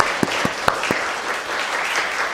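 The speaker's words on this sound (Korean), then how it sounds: "박수로 환영하겠습니다." Church congregation gives a welcoming round of applause during a Sunday service, a steady wash of clapping with a few sharper individual claps near the start, moderately loud and without talk.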